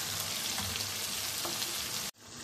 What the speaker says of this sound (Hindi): जो मटर है वो भी साथ ही ऐड कर देंगे ताकि उनकी भी अच्छे से बुनाई हो जाए